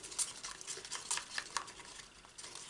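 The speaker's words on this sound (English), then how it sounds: "Give that a stir." Acrylic paint being stirred for a beginner's pour painting, a soft scraping and swishing with light clinks at an uneven pace, close and fairly quiet with no voices.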